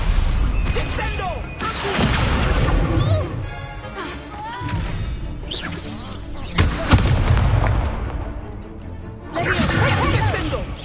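A Descendo spell slamming an enemy down during a Hogwarts Legacy fight, heavy booming crashes and whooshing impacts amid continuous combat noise and voices.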